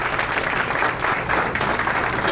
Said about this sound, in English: Let's give her a very big round of applause.